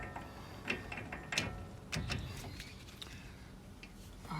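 A torque wrench ratchets and clicks in a few sharp metallic bursts while tightening the front hub bearing nut on a Nissan e-NV200 van, close by in a quiet workshop.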